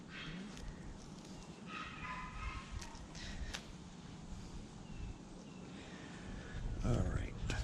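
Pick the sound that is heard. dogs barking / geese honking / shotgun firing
dogs barking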